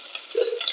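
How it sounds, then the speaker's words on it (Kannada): Onion dropped into hot oil with mustard seed tempering sizzles briefly and steadily while a spoon stirs it in the pan, close by, in a short burst with no voices. "ಈರುಳ್ಳಿ ಹಾಕ್ತಾ ಇದ್ದೇನೆ."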